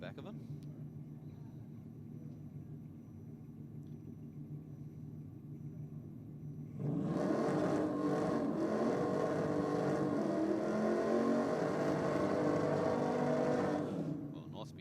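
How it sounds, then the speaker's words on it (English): A Holden Commodore drag car doing a burnout at Sydney Dragway on a night of competition: a low engine rumble grows suddenly louder and holds steady for several seconds, heard from a distance before fading. "Well, nice big strong burnout from the Commodore."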